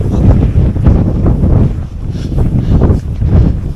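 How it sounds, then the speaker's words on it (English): Strong wind gusting across the open Yorkshire moors near the Wainstones, a loud, constant roaring buffet against the microphone that swells and dips over several seconds with no other sounds. "We'll get out of this wind. It's just bellowing all the way around."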